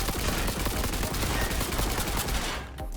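A tech rifle fires through a barricade in the video game Cyberpunk 2077: loud, dense, rapid gunfire runs continuously and drops away abruptly just before the end.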